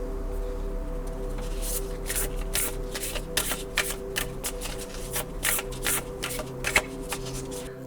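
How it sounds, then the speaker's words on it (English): Oracle cards being shuffled by hand for a reading, a rapid run of crisp riffling snaps and flutters, close and clear over a soft steady musical background. "Let's spread your cards and read them together."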